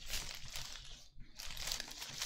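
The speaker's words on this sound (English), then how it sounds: "I can hear the ASMR of the wrapper." Paper sandwich wrapper crinkled and torn, close and loud, with continuous crackling rustle, a brief pause midway, then more crinkling.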